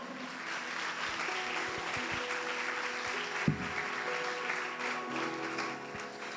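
A church congregation claps during a sermon, a steady wash of applause from many people with a low sustained tone and a single louder thump partway through.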